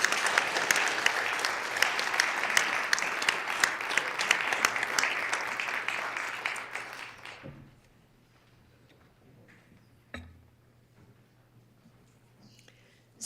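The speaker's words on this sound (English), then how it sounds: "we should give them a round of applause from Senator Roll, Senator Lapka" Applause for Miss Aberdeen fills the South Dakota Senate chamber, a dense, lively clapping that runs for several seconds, then fades to near silence with a few scattered taps and thumps afterward.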